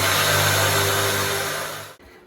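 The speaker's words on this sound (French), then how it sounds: "c'est un mixeur des années 60, ça" Vintage 1960s electric food mixer whirring loudly as it blends walnuts, parmesan and garlic, a steady high motor drone that slowly winds down and cuts off near the end.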